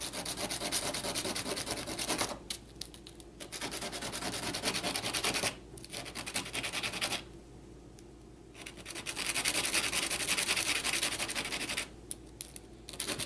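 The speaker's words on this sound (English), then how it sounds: "take the point that I want to sand off and just set it on the sandpaper and slide it back and forth" A plastic ShengShou Pyraminx piece is rubbed back and forth on sandpaper, giving a loud, steady scraping rasp in repeated strokes with a few brief pauses, close up and with no talking.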